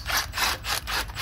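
Socket wrench working on stripped catalytic converter bolts on a Cherokee, giving repeated rasping, ratcheting strokes in a steady back-and-forth rhythm, close and fairly loud with no talk.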